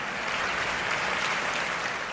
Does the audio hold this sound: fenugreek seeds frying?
no